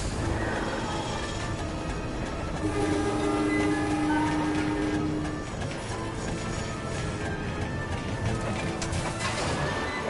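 A train rolls along steadily in the MediEvil video game, a loud continuous rumble with a sustained horn-like tone partway through and no talking.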